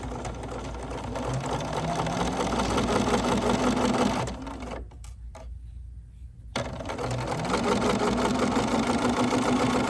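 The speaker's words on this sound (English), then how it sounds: "we're going to sew this and get it going" A sewing machine stitches a quilt block unit onto a square, running in a steady motorized whir that pauses briefly midway before resuming, close and loud with no talk.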